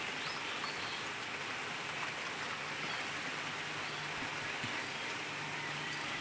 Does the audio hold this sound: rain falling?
yes